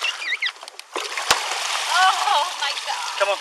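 Deputies splash and slosh through murky, gator-infested retention pond water in the rain during a rescue, with quick close bursts of splashing under a speaking voice.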